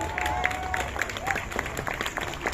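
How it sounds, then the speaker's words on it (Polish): Crowd applause at the Silesia Rally finale in Chorzów's Silesian Stadium, a short burst of scattered clapping under a commentator's voice. "Duże brawa."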